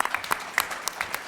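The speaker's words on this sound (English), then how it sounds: "Let's give her a round of applause." Scattered hand clapping from a small audience at a college Martin Luther King Jr. memorial program, brief and uneven, fairly close.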